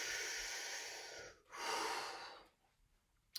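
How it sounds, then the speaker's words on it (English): A deep breath drawn in and let out during an online violin group lesson: a long airy inhale, a short pause, then a second breathy exhale that fades into quiet. Close and clear, with no talking. "Take a nice deep breath."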